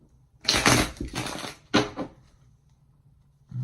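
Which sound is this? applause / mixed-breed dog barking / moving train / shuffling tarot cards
shuffling tarot cards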